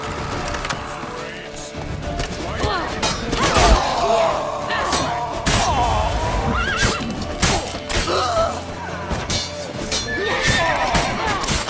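Horse neighing in The Witcher 3 video game, loud repeated whinnies amid busy clattering hooves and battle-like commotion, with shouted voices mixed in.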